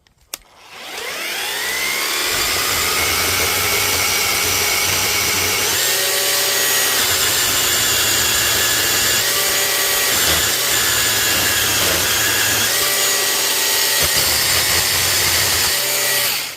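A Parkside PGKGA40-LIB2 40V cordless chainsaw attachment spins up and bites into wood, its motor whining steadily and bogging briefly under load as it cuts, loud and close.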